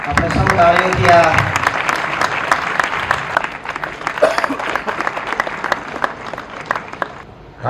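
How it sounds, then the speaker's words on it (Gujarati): Sustained applause from an audience at a ceremony honoring farmer Baldev B. Khatrani of Latipur, Jamnagar, who turned his organic farm into a rose garden. The clapping is steady and fairly loud for several seconds, with a voice heard briefly at the start. "આપણે સૌ તાળીઓથી આ"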